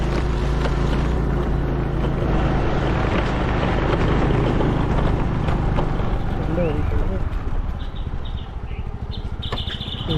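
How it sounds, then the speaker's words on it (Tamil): A vehicle climbs a hill road toward the Asareer Malai Murugan temple, its engine droning steadily and fairly loud with wind, faint birdsong and a voice talking over it, easing off near the end. "நம்ம வண்டியில் இப்போ போகிறோம்"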